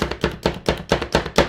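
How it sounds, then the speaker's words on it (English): Vegetables being chopped by hand with a knife for a turkey slider sauce, in a quick steady run of about eight sharp knocks on a board, loud and close, with no talk. "And I'm kind of chunking these and chopping them up."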